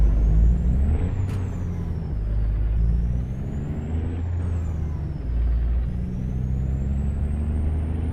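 A heavy truck in a trucking simulator game, starting in Durango, Mexico, braking with air brakes. Air hisses and releases repeat over a steady low engine rumble and whine, loud and close throughout.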